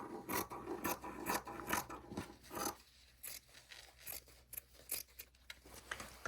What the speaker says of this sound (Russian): Я измеряю, сколько мне ткани примерно надо, и вот этот треугольник вырезаю